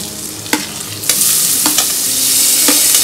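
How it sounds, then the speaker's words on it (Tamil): Onions stirred and sautéing in a pan with turmeric and red chilli powder, a steady soft sizzle broken by a few clinking stir strokes, close and moderately loud with no voices. "வெங்காயம் கொஞ்சம் வதங்கணும்"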